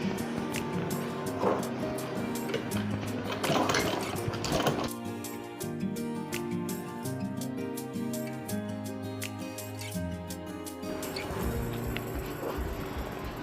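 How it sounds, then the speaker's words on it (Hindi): A sewing machine stitching suit fabric together with its lining, running in a steady mechanical whir with rhythmic needle clatter, close and continuous, with some pauses and changes in speed. "अब इसकी सिलाई लगाएंगे बिल्कुल बारीक बारीक।"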